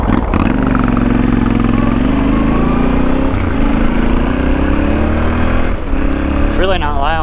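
A 2023 Yamaha Tenere 700 fitted with a Huzar aftermarket exhaust runs at idle, a steady loud low engine rumble heard close and continuous throughout, with a voice talking over it.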